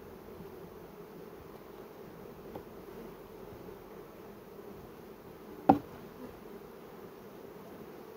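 Honeybees buzz around an open hive whose honey super holds frames of capped honey, a steady, even drone that continues unbroken, with one brief sharp knock partway through.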